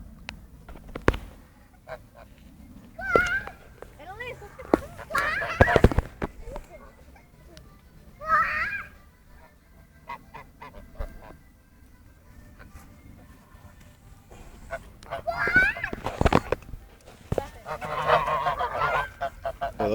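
Large geese honk in scattered bursts, some loud and near, with quieter gaps between the calls and people talking now and then through the clip.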